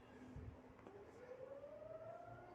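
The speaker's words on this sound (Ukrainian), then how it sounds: "О, починається повітряна тривога." An air raid siren sounding near a home at night, a faint distant wail slowly rising in pitch under a low background hum.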